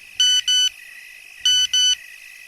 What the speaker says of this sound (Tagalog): tumunog ang kanyang cellphone.